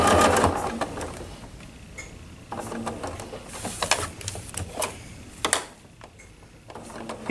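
A sewing machine free-motion quilts a table runner against a ruler, running in short uneven bursts with pauses, close and moderately loud, with a faint hum underneath.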